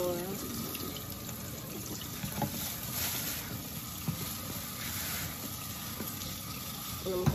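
Running water rinses sea moss in a sink, a steady broadband splashing wash that continues throughout with small clunks and handling noises, fairly close.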